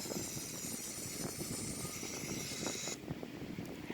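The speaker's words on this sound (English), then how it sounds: "As you can see, we have some engine spinning now." An Airbus A340 jet engine spooling up during start, a steady broadband roar and whine with a sudden drop in the high hiss near the end, no voices.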